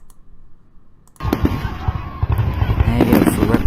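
Fireworks bursting at a 2016 display, with a quiet lull then a sudden onset of dense, crackling explosions and loud pops that continue and build, close to the microphone, with voices in the background.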